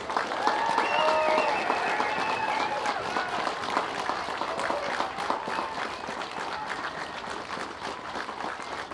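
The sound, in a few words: audience applause at march event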